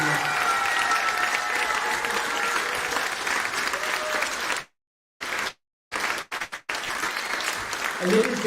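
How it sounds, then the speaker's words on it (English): A crowd applauds at a street band showcase concert, dense steady clapping with voices mixed in, broken by a few abrupt dropouts midway before resuming. "Can we give a huge round of applause to Lydia?"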